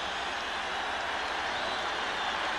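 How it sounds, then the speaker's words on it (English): A large football stadium crowd roars and cheers at a 1987 NFL game between the Los Angeles Raiders and the San Diego Chargers in San Diego, a dense, steady wash of noise that holds for the whole stretch. "Crowd is loving this."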